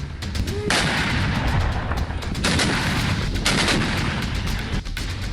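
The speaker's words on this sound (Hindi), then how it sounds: "यूक्रेन से जारी जंग के बीच आग उगलते ये तोप के गोले" Russian howitzer artillery firing in Luhansk, Ukraine: loud, close, broadband blasts and rumbling bursts repeat through a continuous heavy roar, with no talking.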